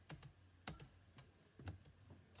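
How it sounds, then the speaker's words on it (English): Keys on a computer keyboard are struck during a Tower of Hell game session, with the space bar slammed hard, giving several sharp, irregular clacks, close and fairly quiet, with no talk. "Slamming my space bar harder."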